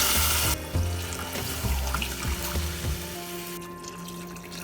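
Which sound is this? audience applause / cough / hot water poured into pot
hot water poured into pot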